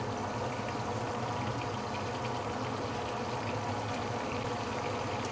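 A fish head deep frying in hot oil for a claypot fish head dish, giving a dense, even sizzle and bubbling that holds steady and fairly loud throughout with no talking.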